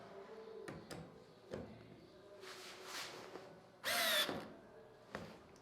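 A Bosch GO smart screwdriver on torque setting 1 drives a 5 mm by 40 mm screw: a short, loud whirring burst near the end, with a few small clicks and taps around it in an otherwise quiet room.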